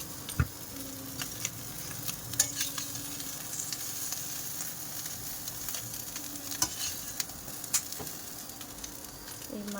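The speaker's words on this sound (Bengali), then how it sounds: "মাছ ভাজা হয়ে গেছে, গ্যাসটাকে অফ করে দিই।" River fish fry in a pan with a continuous moderate sizzle and crackle, punctuated by occasional sharp ticks and pops from the hot oil.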